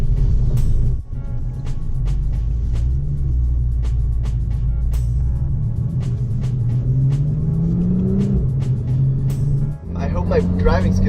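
Porsche Boxster S pulling away in Sport Plus with the sport exhaust engaged, a loud close engine rumble with a rising note as it accelerates, and a voice talking over it near the end.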